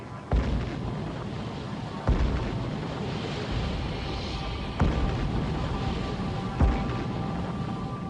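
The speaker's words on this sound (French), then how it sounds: "Les poursuivants lancent des grenades sous-marines au hasard." Underwater depth charge explosions, four deep muffled booms spaced a couple of seconds apart over a continuous heavy rumble, with faint speech mixed in.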